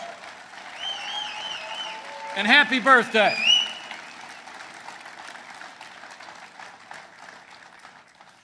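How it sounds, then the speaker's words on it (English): A crowd at a political rally claps steadily while someone speaks briefly over the applause, his voice rising above the clapping for a moment before the applause carries on alone. "while you're still clapping"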